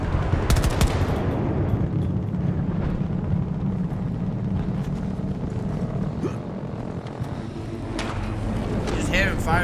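Sniper gunfire in Battlefield 2042, dense loud shots and crackling battle noise filling the scene continuously, with a sharp burst near the start and a player's voice talking over it.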